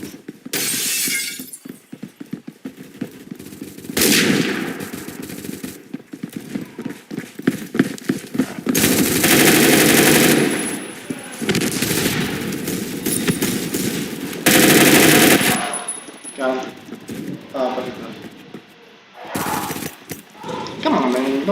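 Loud bursts of automatic machine-gun fire in the online shooter Phantom Forces come in several separate volleys with brief gaps, mixed with shattering impacts and game effects.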